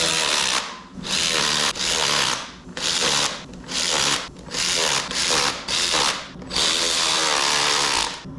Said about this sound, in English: We have to drill this hole right here